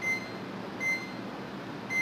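Multimeter in continuity mode beeping as its probes test a diode on a mobile phone circuit board: three short, steady electronic beeps at regular intervals of about a second, clear over faint background hiss.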